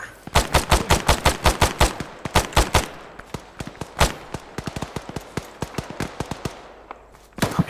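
Gunfire from the ArmA 3 video game sounds as rapid bursts of sharp, loud shots in quick strings, then sparser scattered cracks, with brief pauses between volleys.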